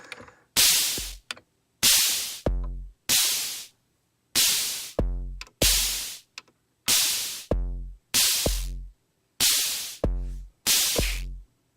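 An Akai Tom Cat drum machine plays a pattern through heavy distortion, loud punchy hits repeating in a steady rhythm with short gaps between them, harsh and crunchy, with no voice over it.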